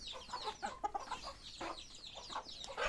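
Hens and a rooster cluck in a rapid, busy run of short calls, fairly faint and overlapping, with no voices.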